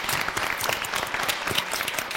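Audience clapping at a live comedy evening, a dense burst of applause from a crowd, steady and fairly close throughout.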